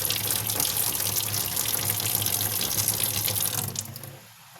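Tap water runs steadily into a sink while milkfish is washed, a loud continuous gush that fades away at the end.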